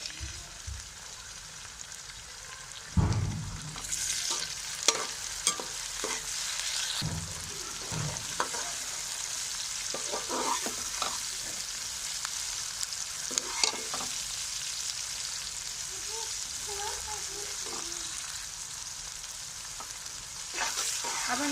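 Onions and tomatoes sizzle in a pan for bhindi gosht, a steady close frying hiss broken by repeated scraping and clacking stirring strokes, with no talking.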